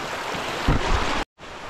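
Rushing stream water in a forest roars as a loud, steady broadband wash, swelling briefly near the middle before a short silent gap, then continuing.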